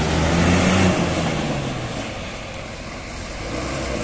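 A Hino RK bus engine rumbles close by during the post-holiday travel season, a deep continuous drone that eases slightly and swells again, with no talk over it.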